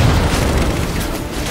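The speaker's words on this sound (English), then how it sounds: "and the rocket launcher" Rocket launcher fired in Halo 4, a single loud booming blast with a dense low rumble that decays gradually over about a second and a half, no voices.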